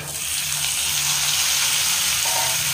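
Close, steady sizzling of onion, tomato and garlic frying in a hot pan with curry leaves, a continuous bright hiss with faint stirring and a light clink near the end.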